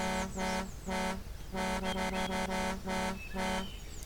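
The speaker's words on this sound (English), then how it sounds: "So if we say we have a vehicle like Big Rig, the horn might sound like this." Big Rig truck horn in the BeamNG.drive video game, sounding as a series of loud, steady harmonic blasts of varying length with short gaps between them, no talking over it.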